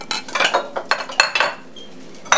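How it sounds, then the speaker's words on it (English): Serving dishes for homemade dog food are handled close by, with a quick series of ceramic and metal clinks and clatters, irregular and sharp, with brief pauses between knocks. "So here are my serving dishes."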